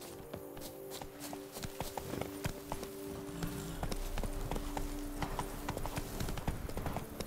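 Hooves of the horse in The Witcher 3's Blood and Wine expansion clop at a steady gait, rising a little in loudness over game ambience and soft music, close and continuous.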